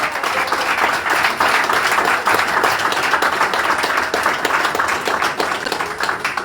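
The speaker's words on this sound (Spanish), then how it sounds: "Dale un fuerte aplauso al Señor" A church congregation applauds steadily, dense clapping that holds at an even, loud level throughout without pause.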